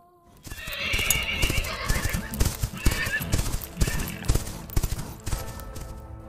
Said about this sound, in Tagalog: kinuha na nila ang kanilang mga kabayo at tuluyan ng nilisan ang simbahan